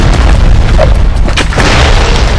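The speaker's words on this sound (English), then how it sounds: "Just send in that airstrike!" A deep, heavy boom from an airstrike explosion in a war film rolls through loud and sustained, a dense low rumble filling the whole moment.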